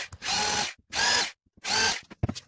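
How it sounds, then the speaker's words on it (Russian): Power drill boring pilot holes for caster wheel screws on a wooden toy box, three sharp whining bursts close up with short pauses, ending in faint handling clatter. "Сверлим по разметке и прикручиваем колесико."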